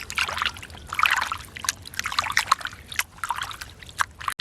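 Rice being rinsed by hand in water in a village kitchen, with close, irregular trickling and sloshing splashes that rise and fall in bursts over several seconds, with no talking.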